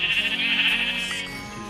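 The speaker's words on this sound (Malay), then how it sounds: "Itu adalah kambing biri-biri." A single sheep bleats loudly and close by, one drawn-out wavering call that fades toward the end.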